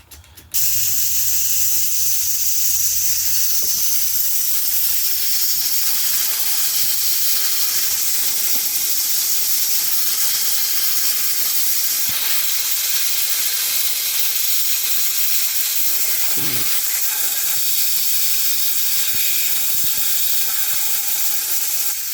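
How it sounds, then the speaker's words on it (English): A steady, continuous hiss of soapy water spraying from a nozzle onto a transfer case, running almost without pause, with faint mechanical clicks and rattles in the background. "So I got some soapy water here."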